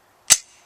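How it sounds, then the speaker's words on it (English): A heavily used Glock 23 pistol firing a blank cartridge: one sharp, loud crack with a short fading tail, alone in near silence. "I'll prove to you that it'll still fire with a blank cartridge"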